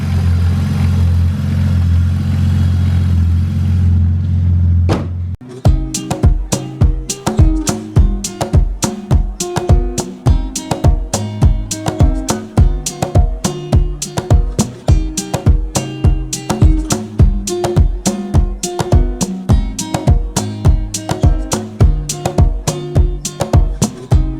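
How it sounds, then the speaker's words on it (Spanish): A BMW E46 engine with a faulty double VANOS runs with a rapid, steady mechanical ticking rattle, loud and close. Before it, a few seconds of low droning hum play. "hace un ruido bastante raro, y eso es de los vanos seguro"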